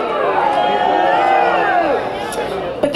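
Large outdoor crowd at a coal exports protest rally in Portland, a dense roar of many voices and cheering sustained throughout, slightly easing near the end.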